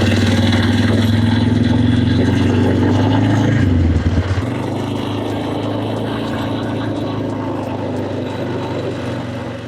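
Polaris Sportsman 500 ATV quad engine running loud and close, a steady droning rumble whose pitch drops partway through and then settles into a lower, even idle.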